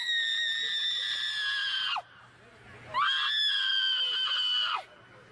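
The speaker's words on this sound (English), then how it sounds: "I don't think it's appropriate to have her screaming, no." A woman screams in two long, shrill, sustained cries, each ending in a falling pitch, separated by a short gap of quiet background noise, close and loud.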